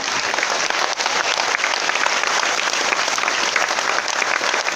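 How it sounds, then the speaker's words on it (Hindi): Seminar audience in an RCM business meeting in Bhilwara, Rajasthan, clapping together in a dense, steady burst of applause that fills the room at full strength for several seconds. "एक बार हाथ ऊपर करके ताली बजाइए"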